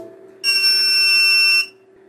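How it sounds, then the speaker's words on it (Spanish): A single steady electronic beep with harmonic tones lasts about a second as an Arduino board with an HC-SR501 PIR motion sensor resets on powering up over USB, clear and alone over a faint hum. "ese pitido quiere decir que se está reiniciando, normalmente lo hace al principio"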